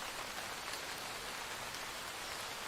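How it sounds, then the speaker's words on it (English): Rain falls steadily on a surface in a soft, even hiss of raindrops, continuous and fairly quiet without any voices. "I also hope that you enjoy the sounds of the rain."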